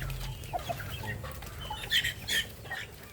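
Chickens clucking softly at a distance in Basud, Camarines Norte, Philippines, a few short calls scattered over a low background rumble.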